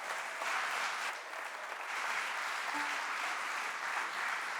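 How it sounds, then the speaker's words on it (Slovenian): Audience applause for a Slovenian rock band performing at a Terme Olimia evening event: steady, dense clapping from a sizable crowd, even in level throughout and heard on its own without talk. "To si zasluži aplavz."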